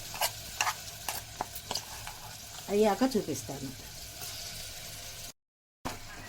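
Gongura (sorrel leaf) paste from the mixer is fried and stirred in oil with asafoetida and fried spices for a gongura and red chilli pickle. A steady soft sizzle carries spoon scrapes and clicks, with a brief voice speaking partway through.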